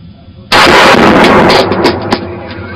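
Video game gunfire from a headshot: a sudden loud blast cuts in, followed by a sustained, rumbling roar with a few sharper cracks near the end.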